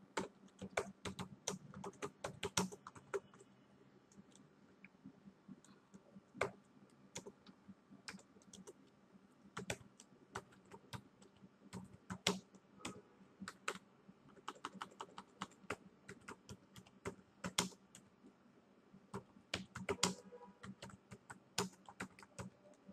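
A computer keyboard clatters quietly as a title is typed, with irregular bursts of keystrokes and short pauses between them, close and soft, with no talking.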